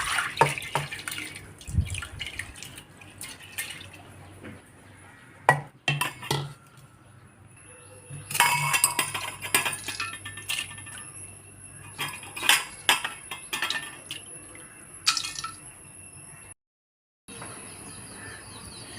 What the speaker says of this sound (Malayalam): അപ്പോൾ ഉലുവ കുക്കറിലേക്ക് ഇട്ട് കൊടുക്കാം.